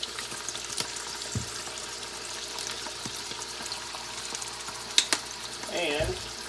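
Soy sauce hits hot oil with chicken in the pan, making a busy frying crackle with stirring scrapes, a sharp clink near the end and a short pouring swirl.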